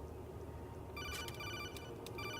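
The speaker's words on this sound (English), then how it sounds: "We don't have to answer all these phone calls, but we might as well give us something to do." Phone calls ringing in the video game Metal Gear Solid 2, a faint electronic ring with bright repeated trills starting partway through, over a steady background hiss.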